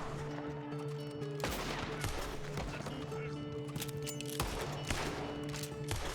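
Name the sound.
gunshots in the video game Red Dead Redemption 2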